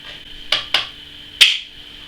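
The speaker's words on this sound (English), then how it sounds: "Open up the cans, dump them in." Canned peach pieces drop into a metal pan in three distinct clanks against a steady background hum, two close together and then a louder one after a pause.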